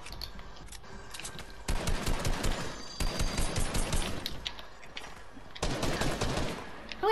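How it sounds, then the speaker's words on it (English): Rapid bursts of video game gunfire crackle in dense volleys, fading briefly between clusters before resuming, fairly loud and close with no talking over them. "I'm getting shot from everywhere."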